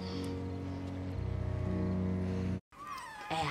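An adopted kitten meows in a domestic setting, a clear, close cry rising over steady background music, followed after a brief silence by further higher-pitched mews.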